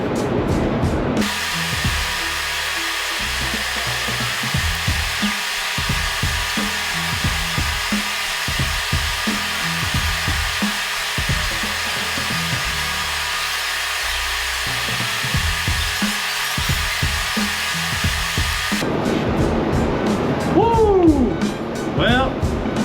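A TIG welder lays the final cap bead on an AWS D1.1 3G vertical test plate. It gives a steady, close hiss-buzz for about eighteen seconds, then cuts off and leaves brief clatter.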